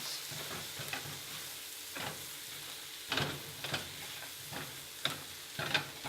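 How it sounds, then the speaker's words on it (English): Two eggs are broken up and stirred in a hot pan of noodles over high heat, making a steady sizzle with repeated close scraping and tapping strokes of the utensil against the pan, without talk. "I'm going to add my 2 eggs. Just going to plonk them in and I'm going to break them up. Break them up and just mix them all around."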